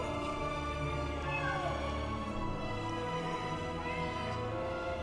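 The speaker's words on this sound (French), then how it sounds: "Ah bah ça c'est un chat." A cat meows repeatedly in a video game, its calls riding over a steady bed of game music and ambience at close, even loudness.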